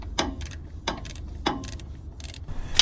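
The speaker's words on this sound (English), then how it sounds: "I'm going to get onto the bolt with a 14 millimeter deep socket with my 1/2-inch drive, and I'm going to start loosening these." A half-inch drive ratchet on a 14 mm deep socket loosens clutch bolts, giving three quick bursts of rapid clicking, each opened by a sharper crack as the bolt breaks free, close and clear.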